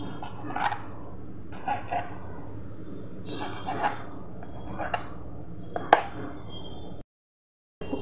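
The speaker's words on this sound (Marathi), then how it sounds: "कट करून घेना जाल्यार पळय अडना बारीक पुडी करून घेता अशी" Knife chopping jackfruit into small pieces on a board, a steady series of sharp, close chops spaced about a second apart, with a brief silent gap near the end.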